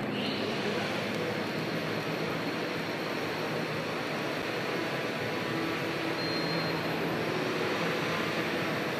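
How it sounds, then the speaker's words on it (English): A Workhorse package-delivery drone flies and descends, its steady broadband rotor roar loud and constant throughout with no breaks or talking. "when the drone goes to deliver a package, it can actually descend and land on the ground"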